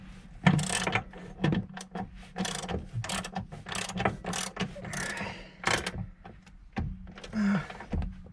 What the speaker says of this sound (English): My ratchet's too big. It's got stuck.